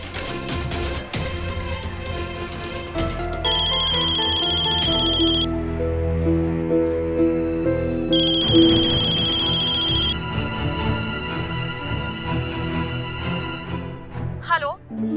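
A phone ringtone plays loudly and close in repeating melodic bursts with bright, sustained tones, cutting in and out over a background of music and voices in a TV drama scene.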